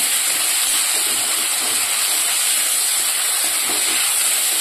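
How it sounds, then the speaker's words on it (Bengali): Ingredients sauté together in a hot pan, giving a loud, continuous frying sizzle that stays steady throughout with no talking. "এবার এটাকে ভালো করে কষিয়ে নেবো।"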